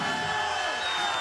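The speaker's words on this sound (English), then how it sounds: "Great crowd out here in Los Angeles, California." A large crowd at an open MMA workout in Los Angeles, California, giving a steady roar of cheering and shouting, loud and continuous with no clear individual voices.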